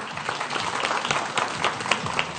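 Studio audience applause on a Pakistani cricket talk show, a steady patter of many hands clapping at close range that holds for the full stretch, with faint voices mixed in underneath.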